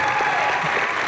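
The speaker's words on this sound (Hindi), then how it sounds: "जोरदार तालियां" A studio audience at a comedy show breaks into a short, dense burst of steady clapping that fills the room evenly from start to finish.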